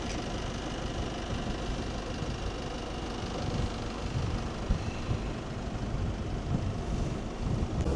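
Strong wind buffets the microphone on an exposed stretch of the Orkney coast, a steady loud roar with low gusty rumble throughout and no voices.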